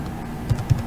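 A few soft keystrokes on a computer keyboard, two distinct taps close together over a quiet room background.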